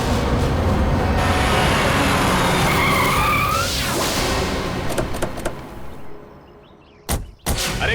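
A car braking to a sudden stop, with a long loud skid and tire squeal fading into a rumble, then a couple of sharp knocks like a door at the end, close and dominant.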